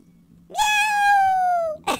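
A single drawn-out cat meow sounds in the video game Happy Wheels, clear and close, sliding slowly downward before a short sharp sound at the end.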